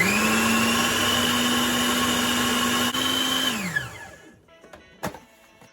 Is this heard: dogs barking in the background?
no